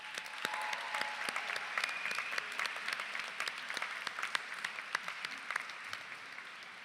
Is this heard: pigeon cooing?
no